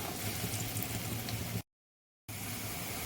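Raw banana kofta frying in oil in a kadai, a steady hissing sizzle that breaks off into silence for a moment and then resumes, with no talking.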